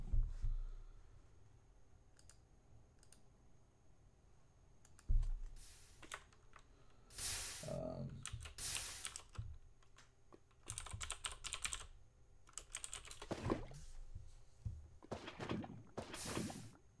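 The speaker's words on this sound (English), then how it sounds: "Sorry if you heard me typing there." Someone types on a computer keyboard in irregular bursts of quick clicking keystrokes, close and fairly quiet, with pauses and a few heavier thunks between flurries.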